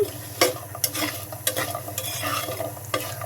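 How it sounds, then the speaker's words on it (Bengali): Poma fish frying in hot oil in a pan, with a steady sizzle under repeated sharp scraping and stirring clatters from a utensil, fairly close and moderately loud. "তেলে ভেজে নিলাম।"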